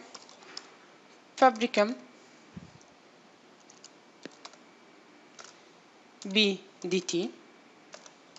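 Keys clatter on a computer keyboard in two short bursts of rapid typing, quiet and close, with a few scattered single taps between them, while a name is entered in a lab test settings field.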